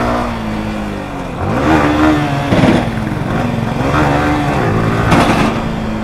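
A Yamaha R15 V4 motorcycle runs near its top speed of 140 km/h in a drag race against an Rs200, giving a loud, steady engine drone with rising and falling pitch as it shifts, close and continuous.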